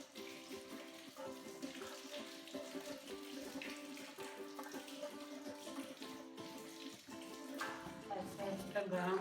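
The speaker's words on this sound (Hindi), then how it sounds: "इसके बाद बर्तन धोने शुरू करते हैं।" Tap water runs while dishes are washed in a home kitchen, a steady faint splash and hiss beneath a louder layer of music that continues throughout.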